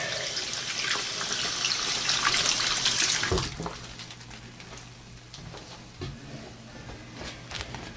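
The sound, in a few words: rinsing vintage Star Wars figures under running water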